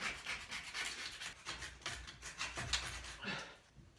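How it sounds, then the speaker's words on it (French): A scraper rasps repeatedly over a pipe, stripping flaking old paint in short uneven strokes, close but fairly quiet. "La vieille peinture écaillée, on va tout gratter"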